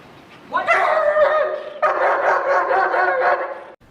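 A protective dog trained to bark at strangers in public lets out a loud, close bark, then after a short break a second long bark.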